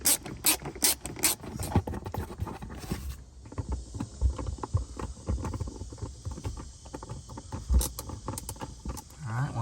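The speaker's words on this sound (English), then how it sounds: "So let's get those screws put back in." Screws being driven back into a Jeep JK dashboard switch panel, a busy run of close ratcheting clicks and small metallic knocks, quieter then picking up again.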